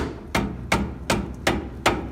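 Five evenly spaced metallic taps drive a part into place during a rear coilover conversion on a Datsun 510, each strike sharp and close in a workshop.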